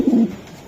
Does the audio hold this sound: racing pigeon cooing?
yes